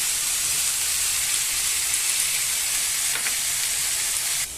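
Kashmiri chilli powder and chicken masala mixed in water are poured into masala frying in a pan, giving a loud, steady broadband sizzle that fills the whole stretch and drops slightly at the very end.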